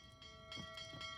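Bell in the video game Dragon's Dogma 2, ringing a few quick dings in succession with a bright metallic tone, moderately faint and standing alone without talk.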